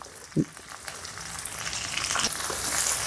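Chopped green chillies sizzle in hot oil in a pan alongside curry leaves while cooking lunch-box rice, a steady close frying crackle that swells slightly after a brief thump near the start, with no talking.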